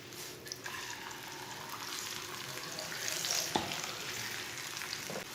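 Aloo paratha frying in oil on a hot tawa over medium heat, a continuous close sizzle with a faint clink partway through, and no talking.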